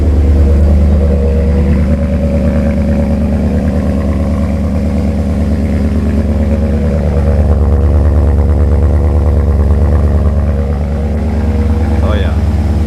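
A cold car engine running loud and rough, a steady close drone with slight swells in level over the whole stretch.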